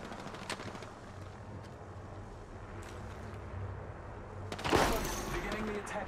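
Gunfire bursts in a video game, with one sharp shot near the start and a louder, denser burst later, over continuous game background noise and a man's speech.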